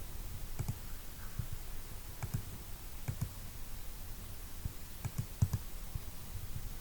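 Computer mouse buttons click faintly while working in mapping software, a few scattered pairs of sharp quiet clicks spread across several seconds with a soft background hiss.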